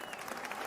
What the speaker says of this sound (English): It's a stadium crowd sound effect.